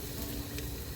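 Turmeric and red chili sizzle in hot oil in a pan while being sautéed for a village-style chicken methi. The sizzle is a soft, steady hiss that carries on evenly, with no talking over it.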